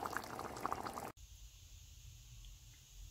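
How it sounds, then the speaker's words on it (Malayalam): Kerala-style mutton curry bubbling in an open pot, a steady close simmer of popping bubbles that cuts out abruptly after about a second, leaving a low, quieter hiss. "ഇത് കണ്ടോ നമ്മുടെ മട്ടൻ ഇവിടെ നല്ലതുപോലെ കിടന്ന് തിളയ്ക്കുന്നുണ്ട്"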